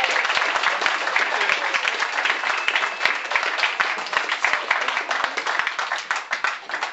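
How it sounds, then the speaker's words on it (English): An audience at a political party event applauds in a dense burst of hand clapping, close and continuous for several seconds, with individual claps popping out of the steady patter. "Give him a warm uh, round of applause."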